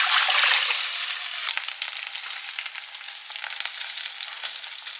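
Shredded chicken frying in a pan, a bright, crackling hiss that starts loud and settles into a steady sizzle with scattered pops.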